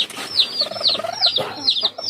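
Hens and a rooster at a rural yard in Lagonoy, Camarines Sur, giving repeated short clucks and calls in a steady run of bursts, close and moderately loud.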